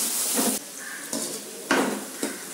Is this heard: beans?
yes